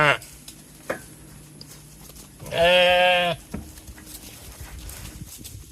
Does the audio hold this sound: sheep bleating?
yes